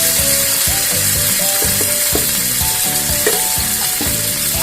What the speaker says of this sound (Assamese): ভালকৈ মই অমিতাখিনি ধুনীয়াকৈ লৰাই ললো